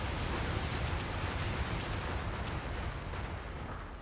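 Artillery fire explodes in the strategy video game REDCON, a dense, sustained roaring rumble that fills the whole four seconds at steady loudness, with no voices.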